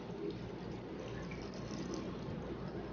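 Tap water runs steadily while hair is rinsed at a sink, a continuous close splashing wash with no speech throughout.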